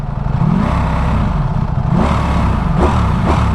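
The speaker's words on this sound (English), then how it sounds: "Let me get off here and let you guys listen to the exhaust a little bit." A 2023 Ducati Streetfighter V4 motorcycle exhaust idling and revving, a loud, close, throbbing engine note with a couple of sharp throttle blips near the end, no talk.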